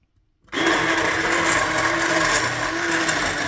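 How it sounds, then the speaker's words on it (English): An immersion blender starts abruptly in a pot of homemade bean and bacon soup and runs as a steady, loud motor whir close by, with no pauses. "got this immersion blender thing and I'm going to give that a try"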